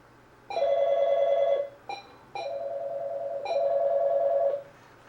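Telephone line-selection and dialing tones on a live call-in phone line: a steady tone starts, breaks off briefly, then two more long tonal stretches follow with short gaps between them, clear and close, with no talking.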